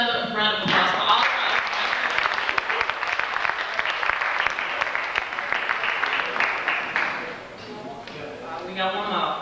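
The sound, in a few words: applause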